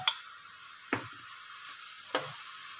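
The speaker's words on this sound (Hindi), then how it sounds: "प्याज और कीमे को जो है ना अच्छे से फ्राई कर लेंगे।" Onions and minced beef frying in a pan, a quiet steady sizzle broken by three sharp scrapes or taps of a utensil at roughly one-second intervals.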